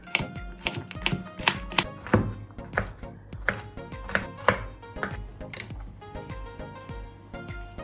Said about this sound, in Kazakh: Қиярды турап болдық, енді сарымсақты қолмен турап шығамыз.